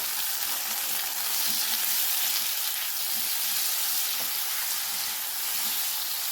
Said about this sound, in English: Cook till the tomatoes start to wilt.